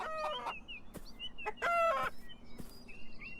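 Video game chickens cluck and a rooster gives short crowing calls, a few brief bursts close by over a quiet background.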